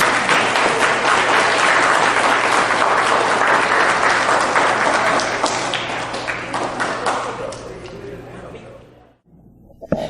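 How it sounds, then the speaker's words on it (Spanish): An audience at a spiritual conference breaks into loud, sustained applause, dense clapping that holds steady for several seconds, then thins and fades out before a brief pause. "nuestro hermano Juan Borja, para quien estoy pidiendo un caluroso y fraternal aplauso"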